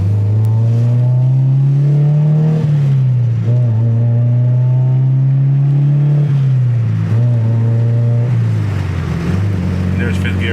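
The engine of a 2000 Honda Civic Si with scrapped headers revs loudly and steadily, dipping briefly as the car shifts up through the gears into fifth, a strong droning tone under occasional talk.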